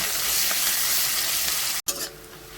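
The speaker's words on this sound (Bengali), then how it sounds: "পেঁয়াজগুলোকে লাল লাল করে আমি ভেজে নেব" Chopped onions sizzle steadily in hot oil in a pan while being stirred, a continuous loud frying hiss that breaks off briefly near the end before resuming more faintly.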